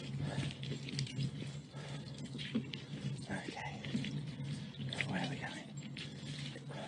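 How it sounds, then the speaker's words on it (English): Rain patters on a cycling helmet during a wet ride, a soft, close, irregular tapping with scattered drips over a steady low hum. "I quite like the sound of the rain on my helmet."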